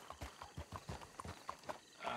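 Horse hooves clip-clop in a steady rhythm of about ten close, distinct beats on a hard surface in a Western roleplay video game set in Saint Denis, with no talk.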